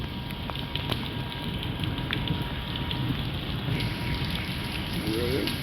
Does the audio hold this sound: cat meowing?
no